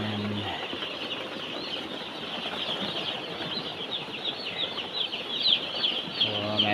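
Broiler chicks on a poultry farm chirp in a dense, continuous chorus of high peeps, with brief low background noise at the start and end and no one speaking.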